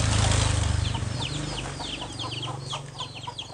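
Baby chickens in a village in Ban Gioc, northern Vietnam: a cluster of high, rapid peeping chirps close by, over low clucking and a steady background rumble.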